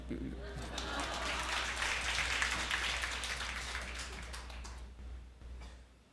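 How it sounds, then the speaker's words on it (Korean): Congregation applauding during a Korean Friday worship service, a broad wash of clapping that swells through the middle and fades toward the end, over a steady low hum. "자, 박수."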